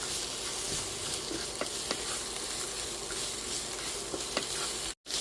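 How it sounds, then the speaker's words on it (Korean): Vegetables stir-frying over medium heat in a pan for squid stir-fry, a steady dense sizzle with scattered scraping clicks of the utensil, alone and close, cutting off abruptly near the end. "야채를 이렇게 좀 볶아주세요. 좀중간불에좀 볶아주세요."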